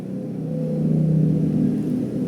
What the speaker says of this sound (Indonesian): banyak motor ya, berisik sedikit